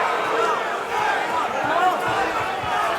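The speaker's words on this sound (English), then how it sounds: "This is the chant of Uruguay as the Uruguayan Reyno spins" A sold-out Hard Rock Live crowd in South Florida chants "Uruguay" for Uruguayan bare-knuckle fighter Gaston Reyno at BKFC 85, a sustained massed vocal chant filling the arena with a commentator's voice over it.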